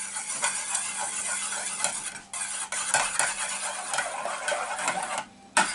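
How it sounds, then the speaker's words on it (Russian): Batter with a pinch of salt whisked in a bowl for fried ide fish dishes, a steady busy scraping and clicking rhythm, close and fairly loud, with brief pauses near the middle and end. "Щепотку соли. И все это взбиваем."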